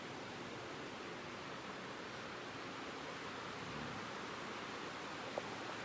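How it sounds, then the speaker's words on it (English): A river in high flow rushes under Hayden Bridge off Highway 34 as a constant, even roar of churning water, with no voices. "That is a tremendous amount of water flowing down through here at Hayden Bridge."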